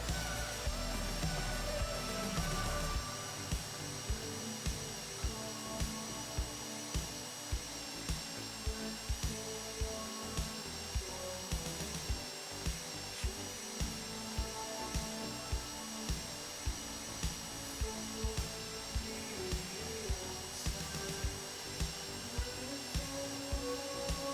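A mechanical drill whines steadily with regular rhythmic clicks and thumps as it drills through vault locks in a FiveM heist minigame, layered over a constant electronic hum and background music.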